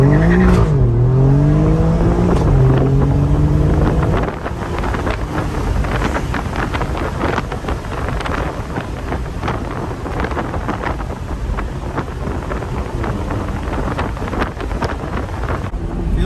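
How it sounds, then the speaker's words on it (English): A loud tuned Alfa Romeo Giulia Quadrifoglio 2.9L engine roars steadily, pitch climbing then holding at a constant high drone against the rev limiter, with heavy wind buffeting the microphone throughout. "the rev limiter kicked in and basically it held it"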